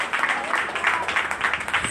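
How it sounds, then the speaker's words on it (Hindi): An audience at a Hindi spoken discourse claps loudly in a quick, steady, rhythmic pattern, filling the short stretch without talk. "जोरदार ताली बजाएंगे"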